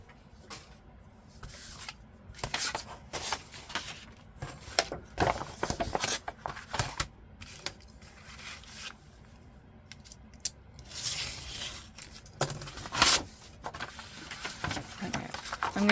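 Scissors snip off a thick part of paper scraps saved for Christmas crafts, a run of close, crisp cuts and rustling with brief pauses between strokes.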